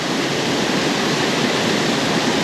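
A forest waterfall pours into a pool below, a steady, dense roar that fills the whole moment with no other sounds on top.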